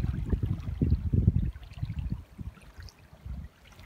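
Small sea waves lap against the shore on a spring day by the sea, a soft, faint trickle and splash of water at close range that comes in gentle pulses, with no one talking.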